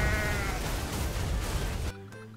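A goat bleats loudly and close in the game Goat Simulator, one long wavering cry that cuts off sharply, followed by a brief quieter tail of game sound.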